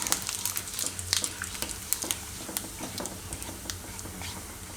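Cumin seeds sizzling in hot oil and butter in a pan, a soft crackling hiss dotted with small popping ticks, steady and close with no talking.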